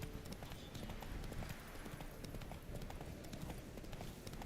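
Geralt's horse Roach trots in The Witcher 3, steady rhythmic hoofbeats clip-clopping close by under a dense ambient background, with no talking.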